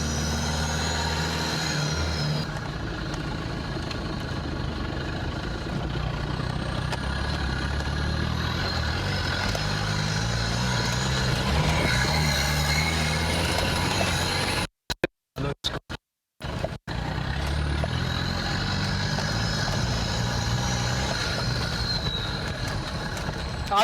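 A modified Mahindra Bolero off-roader in second gear drones with a steady, loud engine and snorkel intake roar, rough and continuous, briefly cutting out mid-way before resuming.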